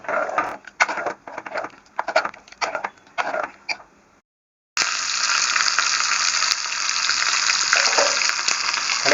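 Spinach kootu with a coconut mixture cooking on a stove, first a run of intermittent bubbling and stirring bursts, then a brief silence, then a steady loud sizzling hiss that continues to the end.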